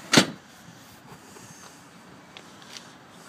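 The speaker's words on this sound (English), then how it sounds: "using the T-bar handle, pull and release the mechanism to fold down to the bed position" A Bebb rock n roll bed mechanism in a vehicle gives one sharp clunk as it releases and folds down to the bed position, followed by a couple of faint clicks.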